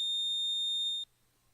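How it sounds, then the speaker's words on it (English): One sustained, piercing electronic beep from a collar rings out for about a second, then cuts off abruptly into near silence. "I heard the electronic beeps from the collar, and I was brought back to reality."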